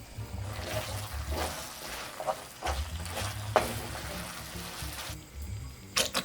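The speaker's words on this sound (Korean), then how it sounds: "후라이팬에 야채를 넣어서 볶다가 만들어 놓은 소스를 넣고 마저 볶아줍니다." Steady sizzling and crackling of vegetables stir-frying in a frying pan, with occasional scraping and clattering as they are tossed, fairly close.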